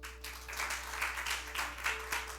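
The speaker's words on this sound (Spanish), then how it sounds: "Aplaude al Rey." Church congregation applauding during a sermon, a rolling wave of clapping that swells and dips over a steady low hum, with no clear speech on top.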